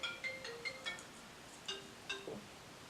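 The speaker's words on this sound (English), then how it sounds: "Oh, my phone's ringing!" Phone ringtone chiming in a quick melodic pattern of short bright notes, faint and sparse, with no talking.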